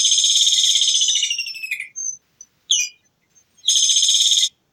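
A kingfisher gives loud, shrill, high chattering calls: a long rattling trill, a few short sharp chirps and a gap, then another burst of rapid trilling, clear and close with no other sounds.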